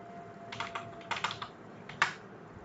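Light computer keyboard typing in short bursts of clicks, with one sharper keystroke near the end, heard alone at low level during password reset entry.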